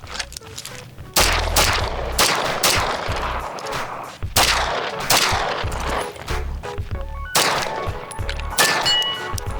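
Gunshots fired at steel shooting targets, a string of loud, sharp reports in several quick bursts across the clip, with metallic ringing from the struck steel between shots.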